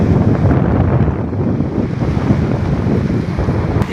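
Sea waves roll in at Rushikonda Beach in Visakhapatnam, a loud churning surf roar mixed with strong wind buffeting the microphone, steady throughout with no voices.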